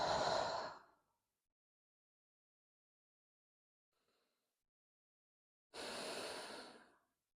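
Two slow, deep breaths during a yoga child's pose, each a close, audible exhale of about a second, separated by several seconds of near silence.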